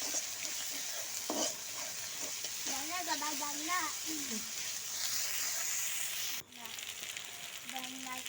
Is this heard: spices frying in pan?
yes